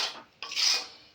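Spoon scraping and rubbing through a thick milk sweet mixture in a pan over a low gas flame, a short raspy scrape followed by a louder, brighter stir, close up with no talking.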